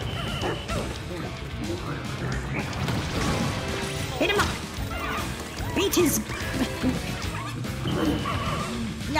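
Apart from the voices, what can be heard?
dog boss barking in the video game Pikmin 4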